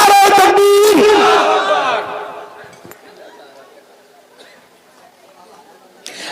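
A crowd at a religious sermon roars a loud chanted response in unison at the start, then fades into faint murmuring and scattered noise.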